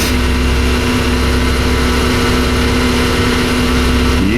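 The engine of a 1994 Chevrolet Impala runs steadily after a cold start, a loud, close, even idle hum with a slight pitch shift at the very end.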